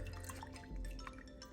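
Elderberry syrup drips and splashes into a bowl while being strained, a short, faint run of irregular liquid drips close by.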